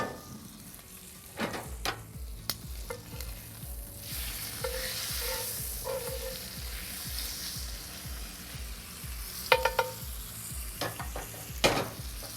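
A steak sizzles and spits steadily in a hot pan as it is basted with butter, with scattered pops, scraping and clinks of a spoon against the pan throughout, no talking.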